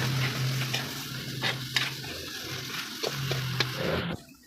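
Chayote and Baguio beans hiss and crackle as they sauté in a pan, with a steady sizzle broken by scraping stirs and a few sharp clinks of a utensil. The frying stops abruptly near the end.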